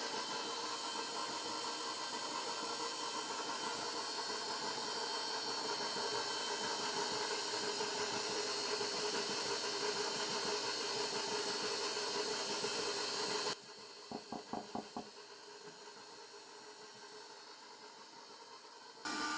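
An electric mixer whirs steadily at close range for about fourteen seconds while mixing sponge cake batter, then drops away, leaving a few light knocks and a quieter hum before the motor starts up again at the very end.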